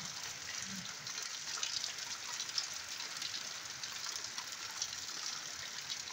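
Steady, soft hiss of rain falling on a goat farm, an even wash of patter with no breaks, fairly quiet and continuous.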